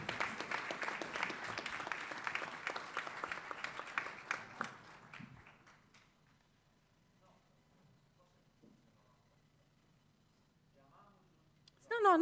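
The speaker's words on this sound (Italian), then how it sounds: "Un applauso" An audience applauds a prize winner in the prose section at an awards ceremony, a full round of clapping that thins and fades out after about five seconds into near silence, with a brief sharp noise at the end.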